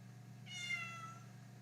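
A pet cat hiding under a blanket gives a single drawn-out meow, close and clear over a low steady hum.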